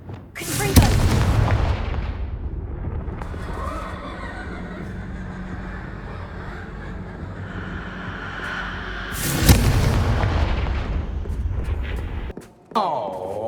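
Blasts from the Confringo explosive spell in Hogwarts Legacy: two loud booming impacts several seconds apart, each with a rumbling tail, separated by quieter game ambience.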